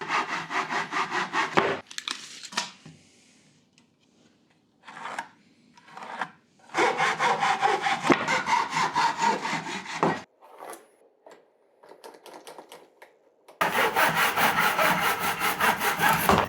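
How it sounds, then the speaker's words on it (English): Hand saw cutting wood for a toolbox, loud close rasping strokes in fast regular bursts, pausing between cuts and then resuming with strong, steady sawing. "That saw is way sharper."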